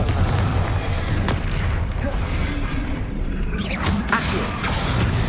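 In Hogwarts Legacy, the Confringo fire spell bursts amid spellcasting combat, with booming blasts over a dense, continuous roar of game noise, loud and close throughout.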